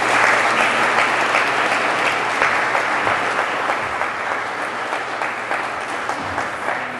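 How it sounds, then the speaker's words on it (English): Steady applause from an audience thanking a group of presenters after pitch presentations at a summit, dense and continuous throughout at an even, fairly loud level. "Give them a round of applause."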